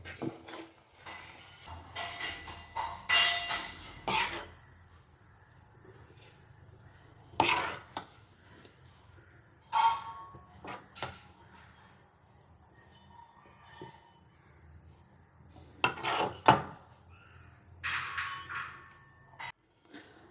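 Sundakkai kuzhambu, a turkey berry gravy, being ladled from a pot into a bowl: scattered metallic clinks and scrapes of utensil against vessel in short bursts, separated by quiet gaps.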